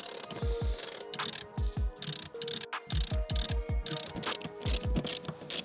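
A ratchet clicks in quick bursts of repeated strokes, close and loud, while a new driver's seat is bolted down inside a budget BMW under restoration.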